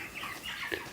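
Backyard chickens cluck softly at close range, a few short murmuring calls over a low rustling background with no talking.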